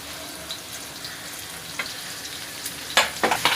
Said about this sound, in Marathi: त्यात आता मी तो बारीक चिरलेला कांदा टाकते.